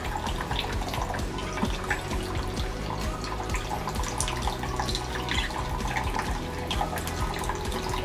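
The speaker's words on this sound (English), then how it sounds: "there's a bath going" Tap water runs steadily into a bath for a pet cockatiel, a close, continuous splashing trickle with faint dripping and no voices.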